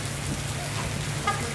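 Heavy rain pouring in Baguio City at night: a steady, dense hiss of water hitting surfaces, loud and unbroken, with a faint tap or spatter near the end.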